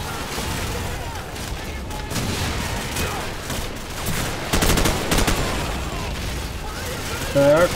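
Rapid bursts of machine gun fire in Call of Duty 4: Modern Warfare, loud and dense, with sharp cracks and booms mixed in, repeating across the whole stretch of battle.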